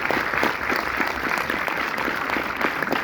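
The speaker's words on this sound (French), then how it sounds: "donc on peut l'applaudir pour ça" An audience applauds at a film premiere screening, a steady, moderately loud patter of many hands clapping throughout the short stretch.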